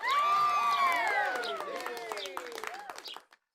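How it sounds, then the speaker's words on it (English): A cartoon crowd of animals cheers and claps at a race finish. High voices in chorus rise and swoop over light applause, then fade out near the end. "Clapping and cheering."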